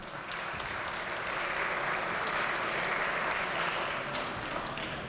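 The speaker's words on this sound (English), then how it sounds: "Please give them a round of applause." A round of applause fills a legislature chamber, a steady, even wash of many hands clapping at moderate distance, sustained for several seconds without speech.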